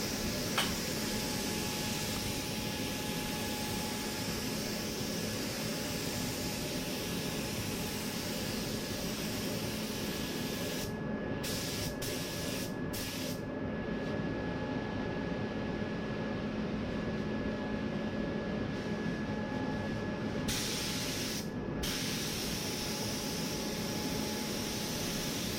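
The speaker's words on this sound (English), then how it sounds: "Here I'm applying the first coat of clear" Steady broadband hiss of a spray gun laying down clear coat inside an inflatable paint booth, continuous for the whole stretch over a constant fan-like airflow drone, with a few brief pauses in the upper hiss.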